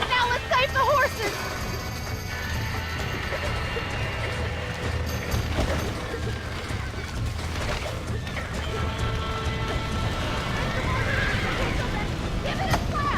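Horses whinny and neigh in the Red Dead Redemption video game on Xbox One, with clip-clopping hooves and mechanical rattles in a busy game soundscape while people talk over it.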